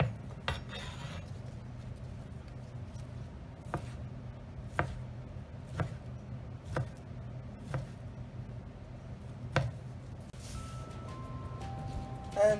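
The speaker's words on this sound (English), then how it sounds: "all we want to do is just cut thin slices like so" A knife cuts cooked Moroccan lamb backstrap into thin slices on a board, making a series of sharp, evenly spaced taps, faint and close, with a little low background hum.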